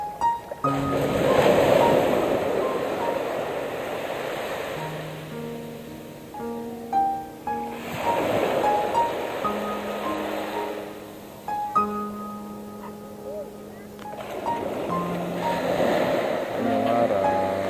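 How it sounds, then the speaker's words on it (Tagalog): Sea waves rolling onto Tacloban beach, steady loud surf surging in repeated swells with wind buffeting the microphone, while faint tonal sounds drift in the background. "Ganda talaga ng dagat."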